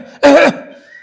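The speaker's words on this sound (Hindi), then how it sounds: "यह रूमैक्स की खांसी है," A person demonstrates a dry cough with a single loud, harsh burst that rises abruptly and fades out over about a third of a second, close to the mic in a quiet room.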